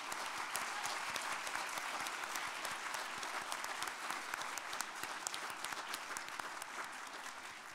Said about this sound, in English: let's give one final round of applause for all of today's award winners